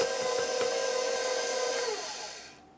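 A stand mixer kneads Dutch white bread roll dough with butter added. Its motor gives a steady, fairly quiet whine that dies away near the end.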